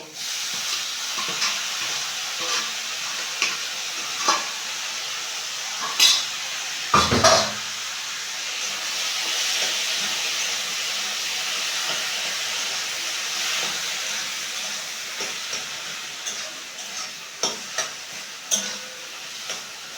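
Boiled taro flowers go into a pan and cook, giving a steady sizzling hiss with soft stirring scrapes and a few clinks of a utensil against the pan, close and without talk.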